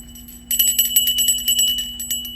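An ice cream vendor's bell rings in a quick, irregular run of bright metallic strikes over a faint steady hum, fairly close and loud, with no talking.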